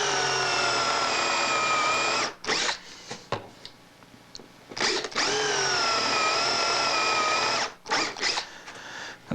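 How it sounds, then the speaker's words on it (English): A power drill drives a Forstner bit into wood to cut a hole, running in two long sustained whining bursts separated by brief pauses and short stops and starts, loud and close with no talking. "I'm going to drill out as much as I can, as close as I can to the other hole"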